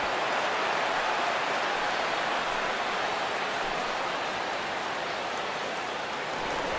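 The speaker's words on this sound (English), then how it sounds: "EK, how'd you like playing in the rain?" Steady rain pours over a baseball ballpark in MLB The Show 16, a dense even hiss of falling water that stays loud and constant throughout, with no voices.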